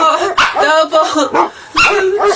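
A dog barks and yips in short repeated bursts, loud and close, with a brief whimpering tone between barks; no other sounds stand out.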